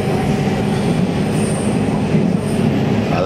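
JR Central local train on a conventional line through Japan, running toward Ogaki: steady rumbling wheel-and-carriage noise heard from inside, continuous and fairly loud, with faint high squeals from the rails and no talking.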